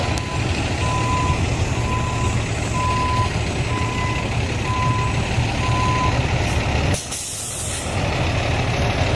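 A truck backs up with a steady backup alarm beeping at an even rhythm over engine rumble, then a sharp air-brake hiss bursts out near the end.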